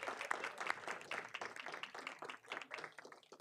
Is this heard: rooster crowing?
no